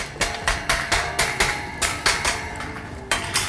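Hammer tapping a metal rack shelf to adjust its height, a steady run of sharp metallic knocks close by, about a dozen strikes with a short pause midway.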